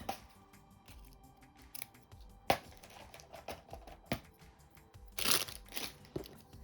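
Sharp scissors snip through ribbon while a hair bow is made, with a series of close, crisp cuts at an irregular rhythm and a slightly louder burst of snipping near the end.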